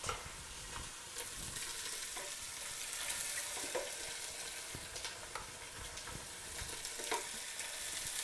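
Goat chops sizzling in a pan, a steady broad hiss with scattered crackles and pops throughout, fairly quiet and close, with no one talking.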